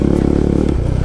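A motorcycle labours up a steep, dusty offroad trail near Pokhara, its engine loud and close with a fast, even throb that dips briefly near the end, alongside faint scraping clatter.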